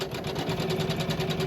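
A sewing machine stitching a violet-blue quilt block, its needle running in a fast, even mechanical chatter with a steady motor hum, close and moderately quiet.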